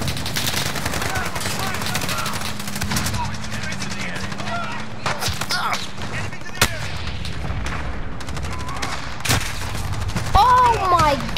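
Sniper rifle fire in a video game: sharp, loud cracks amid dense, continuous gunfire and battle noise, with several distinct heavy shots standing out and voices talking over the action.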